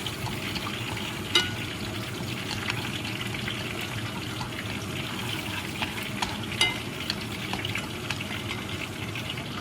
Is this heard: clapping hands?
no